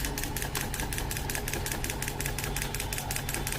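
A hand-started homemade mini boat engine runs with a fast, even, rhythmic knocking, close up and steady throughout without a pause.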